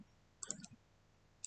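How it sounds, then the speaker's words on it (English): A computer mouse double click gives two quick faint clicks close together in a quiet room, followed by a single later click. "I can just simply double click"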